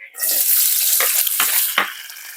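A whole large onion hits a tablespoon of hot oil for pork menudo, bursting into a loud, steady sizzle up close, with a few brief stirring scrapes through the frying and the hiss easing slightly at the end.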